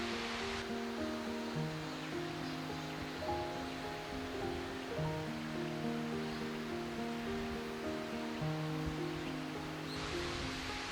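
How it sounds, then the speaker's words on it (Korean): Steady, dense rushing roar of the two-tiered Heungnyong waterfall near Pyochungsa temple in Miryang, continuous throughout beneath sustained musical tones. "거대한 암벽 사이로 두 단을 이루며 떨어지는 흑룡폭포"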